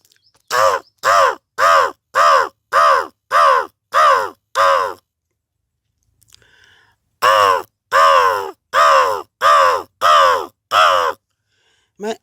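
A man vocally imitates a crow's cawing: a run of seven loud, evenly spaced harsh caws, a short pause with faint rustling, then six more caws in the same steady rhythm, close to the microphone.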